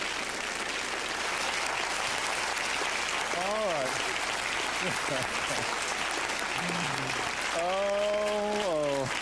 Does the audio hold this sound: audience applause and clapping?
yes